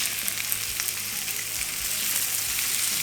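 Thick New York strip steaks sear in a hot pan with a steady, crackling sizzle and scattered pops, heard close and alone.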